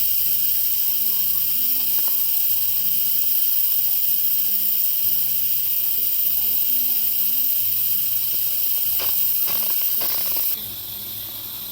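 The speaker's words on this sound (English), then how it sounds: "I'm going to release the pressure by doing what's called a quick release" Steam hisses from an Instant Pot electric pressure cooker on quick pressure release, a loud, steady, continuous rush for about ten seconds before dropping off sharply, with faint low tones underneath.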